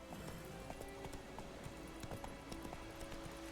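A horse's hooves clip-clop in a steady walking rhythm in The Witcher 3: Wild Hunt, fairly quiet, with ambient game sound beneath the even footfalls.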